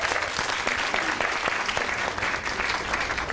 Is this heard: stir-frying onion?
no